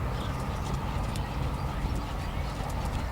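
Hooves of a dressage horse in extended trot at a Grand Prix dressage festival, a steady rhythmic clip-clop carrying on throughout over a broad arena background, fairly close, with no talking.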